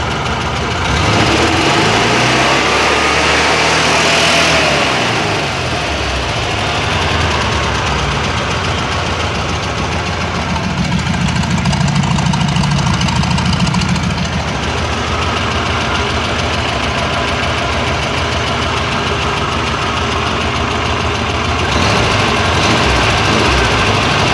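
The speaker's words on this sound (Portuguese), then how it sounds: "Agora o som do motor depois das modificações feitas." A 1979 VW Variant II engine idles after a carburetor and electrical overhaul, a loud, continuous rough air-cooled chugging with a steady knocking pulse throughout and slight changes in pitch.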